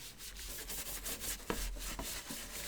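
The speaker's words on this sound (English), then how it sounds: "when I'm done scrubbing all of this" Dirty Xbox console parts from a bug-infested unit are scrubbed with a brush, a faint steady rubbing and scratching in quick repeated strokes, close up with no voices.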